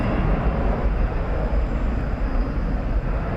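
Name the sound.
Airbus A321 airplane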